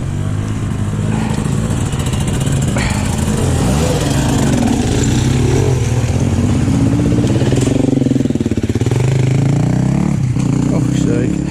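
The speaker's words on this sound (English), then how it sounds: "Got a sticky throttle now." A Yamaha dirt bike engine with a sticky throttle revs loudly and raggedly outdoors, the pitch rising and falling in uneven surges with a rough, buzzy roar that never settles to idle.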